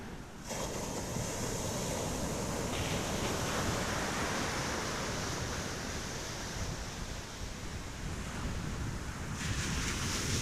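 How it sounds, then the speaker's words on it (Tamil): Sea waves rolling onto the shore near a harbour, a steady loud wash of surf with wind noise over the microphone, continuous throughout with no voices. "கடல் அலை கொஞ்சம் அதிகமாக தான் இருக்குது,"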